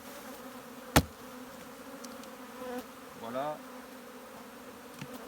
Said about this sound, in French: il y a des abeilles encore dedans. Hop, donc on va taper